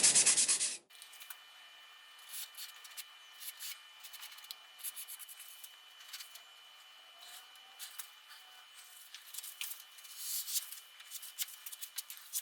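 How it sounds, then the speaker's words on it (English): Sandpaper of 180 grit rubs over surfboard fin boxes, a steady scratchy scrubbing with uneven strokes that stays fairly quiet and close, heard alone after a short louder burst at the start. "go ahead and rough them up a little bit with some 180 grit or even higher or lower grit sandpaper"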